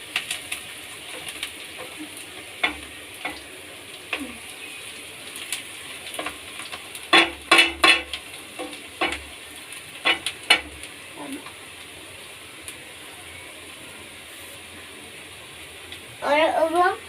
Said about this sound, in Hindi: हम इसलिए चलाते हैं ताकि ये चिपक ना जाए।